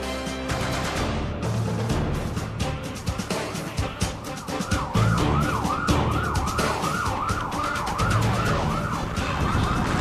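An ambulance siren of the fire brigade, wailing in a steady rising-and-falling sweep over dense traffic noise, loud and near from midway through after a noisy start, at the scene of a motorcycle collision.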